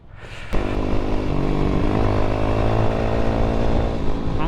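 A GPX Demon 165R motorcycle engine catches after about half a second and runs steadily and loudly up close, with a continuous buzzing drone and no voices.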